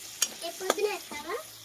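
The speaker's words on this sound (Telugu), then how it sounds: "మనకి తాలింపు అనేది వేగుతూ ఉంది కదండి." Tempering spices fry in hot oil in a pan while being stirred, with a brief close sizzle and a couple of sharp utensil scrapes.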